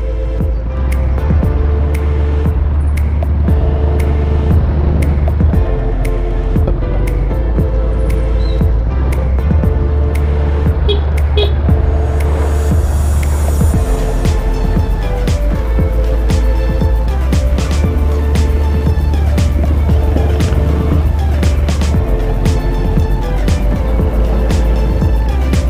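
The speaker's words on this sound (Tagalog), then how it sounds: "Grabe traffic dito." Heavy morning traffic in Balibago, Santa Rosa, heard from a motorcycle: a dense, loud wash of engines and road noise with scattered clicks and passing vehicles throughout, no voices.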